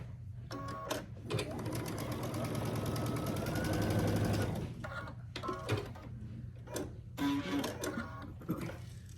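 A sewing machine stitches a quilt block row, running in one sustained burst and then in several short, quick stitching spurts separated by pauses.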